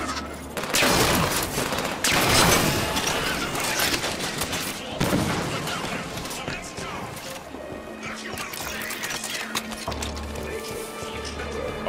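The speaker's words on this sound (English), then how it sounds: "Auto turrets. If we turn these back on, they'll make quick work. Turrets on and firing." Auto turrets in Halo 5: Guardians on Meridian Station open up in loud, sustained rapid fusillades with heavy impacts, and voices talk over the battle.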